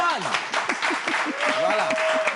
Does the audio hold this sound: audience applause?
yes